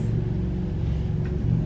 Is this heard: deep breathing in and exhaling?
no